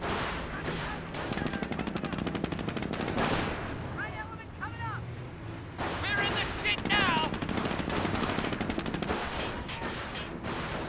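Bursts of rifle and machine-gun fire in a Company of Heroes battle as an infantry squad comes under fire, rapid crackling volleys repeating over a dense backdrop of combat noise, with a commentator's voice faintly underneath.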